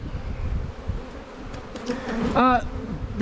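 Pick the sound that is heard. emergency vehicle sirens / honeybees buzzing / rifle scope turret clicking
honeybees buzzing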